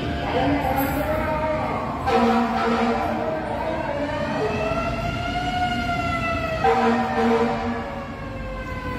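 Fire truck sirens wail as the engines pass near a fire in Dahlia, Fairview, with rising and falling tones sweeping repeatedly and loud, overlapping sirens, and people talking underneath.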